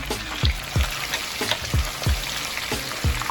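Garlic, a piece of Scotch bonnet pepper and scallion fry in hot oil for Jamaican escovitch fish, giving a close, continuous sizzle with regular soft thumps of stirring.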